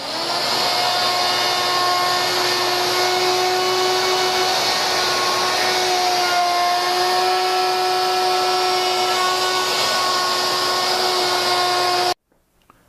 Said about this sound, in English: Now let's make that deep mortise for the pocket lock.